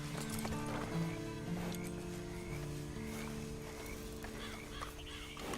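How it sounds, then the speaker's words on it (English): Horse hooves clip-clop in the Adventures of Buster Scrubbs PS4 video game, a steady near trot of hoofbeats under a constant tonal game music bed, with no talk. "Then you better get on this horse."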